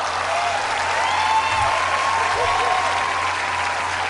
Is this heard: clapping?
yes